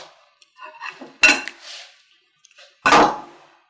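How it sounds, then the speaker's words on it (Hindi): Two sharp clattering clangs ring out as dishes and metal pots are picked up and knocked together, loud and close, with faint background sounds in between and no one speaking over them. "और ये बर्तन उठा।"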